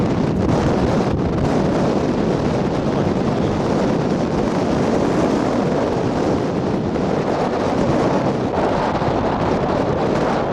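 Strong wind buffeting the microphone outdoors near the Coober Pedy airstrip, a loud, continuous, roaring rumble that never lets up.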